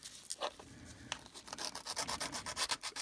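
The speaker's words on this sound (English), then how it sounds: "sandpaper" Sandpaper rubs back and forth along an edge in short, quiet scratchy strokes, a soft irregular rhythm of close-up abrasive swishes.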